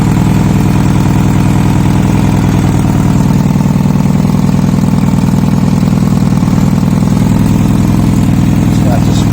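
A Yamaha Fazer motorcycle engine running in first gear, a loud, steady, close low-pitched drone with an even throb and no pauses.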